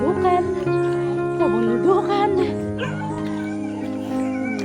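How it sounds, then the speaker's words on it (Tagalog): An angry dog on a rural mountain trail barks and yips in several sharp, close bursts, mixed with people talking. "Galit yung aso."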